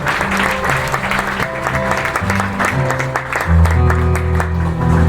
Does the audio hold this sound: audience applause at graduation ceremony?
yes